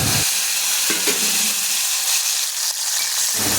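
Peanuts, cumin, dried red chillies and coriander seeds frying in a pan for gongura chutney, a loud steady sizzle broken by a few stirring scrapes, with no talk.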